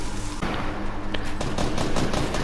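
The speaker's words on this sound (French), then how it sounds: "La balle de pompe qui passe." Shotgun blasts ring out during a Fortnite tournament final, a loud cluster of rapid shots against dense game noise, with no voice over them.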